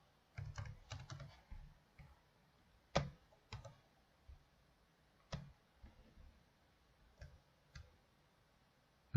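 Scattered keystrokes on a computer keyboard come in short irregular bursts and single clicks, close and fairly quiet, with pauses between them and nobody speaking.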